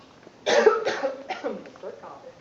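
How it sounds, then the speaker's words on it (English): A person gives a few harsh, close coughs in quick succession, followed by a softer throaty trailing sound. "Start coughing."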